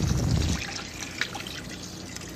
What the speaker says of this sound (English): we're going to pour the vinegar in now.